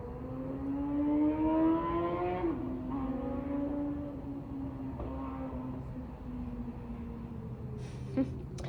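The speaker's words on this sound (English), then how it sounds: "I had somebody just rev up the engine." A nearby car engine revs up, its pitch climbing steadily, then drops and settles into a steady hum as the vehicle pulls away on a road; no talking.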